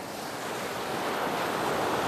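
Rushing water of a river waterfall on a trout stream in flood, a dense, steady roar that swells slightly louder partway through, with no voices over it.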